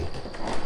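Footsteps climbing old wooden stairs inside a house in a horror story, a short run of soft, close thuds and creaks over a steady background.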